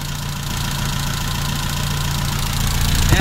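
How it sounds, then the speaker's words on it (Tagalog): A car engine idles steadily with its oil filler cap removed, giving a continuous, even hum with a low drone and faint mechanical ticking from the valvetrain, close up and heard alone without talk. "pinandar ko na yung makina ko"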